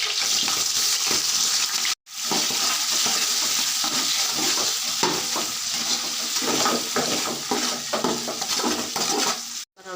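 Onions and biryani spices fry and sizzle loudly in a pot as they are stirred, a dense close hiss with scraping stirs throughout and two brief breaks in the sound.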